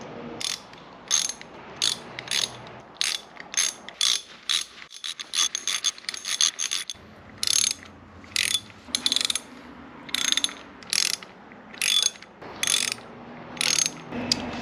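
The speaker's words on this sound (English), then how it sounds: "I'm going to get all these springs started, and then I'll begin tightening them all down." A ratchet tightens the clutch spring bolts on a Honda XR650, giving a steady series of short, close clicking bursts with brief pauses between strokes.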